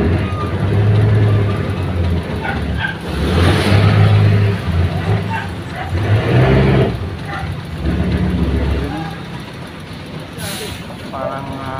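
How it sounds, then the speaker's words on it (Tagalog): A car engine labours and revs hard while driving, a loud steady drone that swells and eases over the stretch, with a person talking over it. "Parang hirap na hirap yung sasakyan guys."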